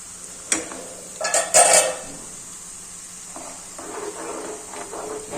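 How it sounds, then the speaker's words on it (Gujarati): Onion cooking in a covered pan over a medium gas flame, giving a soft steady sizzle with a few light clinks and knocks of the lid or utensil near the start. "ઢાંકણ ઢાંકી અને આપણે ડુંગળીને પ્રોપર રીતે ચડવા દેશું, જેમાં 2 થી 3 મિનિટનો સમય લાગે છે મીડિયમ ગેસની ફ્લેમ ઉપર"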